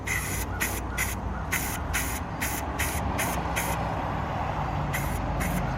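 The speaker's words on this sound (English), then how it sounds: "let me spray this stuff." Spray paint hissing from an aerosol can during homestead repair painting, in a series of short, steady bursts with brief gaps, close and fairly loud over a constant low background rumble.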